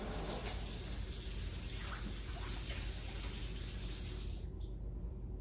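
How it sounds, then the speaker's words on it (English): Steady rushing of cold tap water rinsing noodles in a sink, continuous and fairly loud, easing off near the end. "I just gave them a rinse with cold water"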